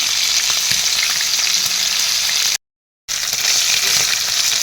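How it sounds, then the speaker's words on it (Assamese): Fish pieces fry in hot oil in a wok for a cauliflower fish curry, giving a steady, close, loud sizzle with stirring, cut off by a brief gap of silence midway. "এয়া দেখিছেনে মাছখিনি অলপ অলপ ফ্ৰাই হৈ গৈছে"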